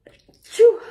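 A single short sneeze bursts out close and loud after a brief breathy intake, alone with no speech around it.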